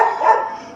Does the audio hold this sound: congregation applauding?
no